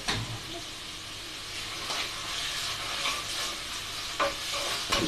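Chicken kadai ingredients stirred and fried in a pan, a constant frying hiss with occasional clacks of the utensil against the pan, close and moderately loud, no voices.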